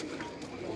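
Pigeon coos from high-flying pigeons kept on a Karachi rooftop, a low soft cooing that holds through a brief moment, heard close and steady with a faint murmur behind.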